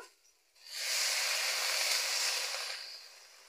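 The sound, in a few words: water poured into hot pan of papaya for boiling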